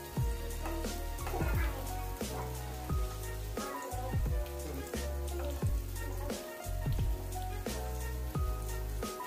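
Tofu fries in hot oil in a home kitchen while being cooked through and flipped to keep from burning; a dense, continuous crackle and sizzle spatters throughout, with music-like tonal layers running beneath.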